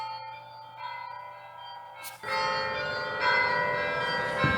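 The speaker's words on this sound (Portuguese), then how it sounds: "o convento de Mafra tem sinos" Church bells of the Convent of Mafra ring in steady sustained tones, rising to a louder, fuller peal partway through as more bells join in close by.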